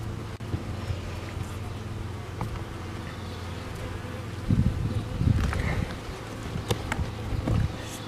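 Honey bees crowd a hive while building new comb, their dense, steady buzzing humming close by throughout, with louder swells of activity rising over the drone midway and toward the end.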